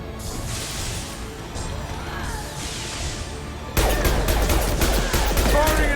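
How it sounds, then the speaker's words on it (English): Gunfire and an impact shot in the video game Mass Effect 2, a rattle of shots followed by a sudden loud blast and crashing impacts in the final seconds, loud and dense with no speech. "Firing an impact shot!"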